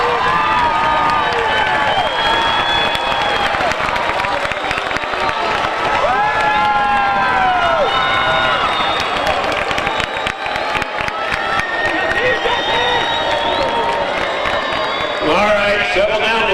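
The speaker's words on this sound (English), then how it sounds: "Why don't you stand up and give them a round of applause" High school commencement crowd, Santa Ana class of 2014, clapping, cheering and whooping for parents and families, a dense sustained roar of applause with shouts rising through it and voices mixed in.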